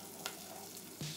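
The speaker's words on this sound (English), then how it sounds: "Oil in a pan, very hot, is for the tofu bowl." Frying in very hot oil in a restaurant kitchen pan for a tofu bowl, a dense continuous sizzle, quiet and close, with a couple of brief clinks of utensils against the pan.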